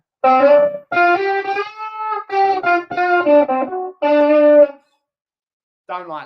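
Electric guitar played through effects, a run of bright, harmonically rich sustained chords and notes in short phrases with gaps between, close and clean, ending in a brief pause before one more chord.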